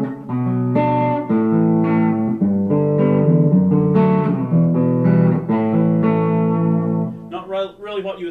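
Squier '51 Black Beauty electric guitar played through overdrive, a short run of sustained, slightly distorted chords and notes, close and clear, ending in a few quicker plucked notes.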